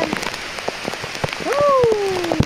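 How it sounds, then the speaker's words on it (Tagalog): Heavy rain pours steadily onto a surface during an outdoor trap-fishing session, a dense hiss with scattered drop hits, while a rising tonal whistle or voice briefly cuts through near the end. "Sobrang ulan."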